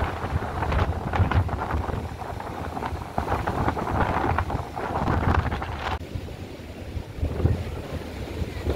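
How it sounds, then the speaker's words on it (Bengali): Strong sea wind roars across a pier over open water at Bournemouth, buffeting the microphone in loud, continuous gusts with the wash of waves underneath. "মনমন করে শো শো করে হাওয়া দিচ্ছে"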